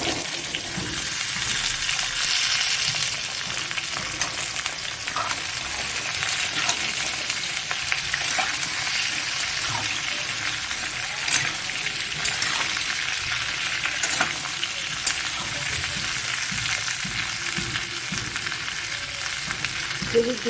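Potato pieces fry in a pan for a fish-head muri ghonto, sizzling continuously with occasional stirring scrapes and clinks throughout, close by and with no talk.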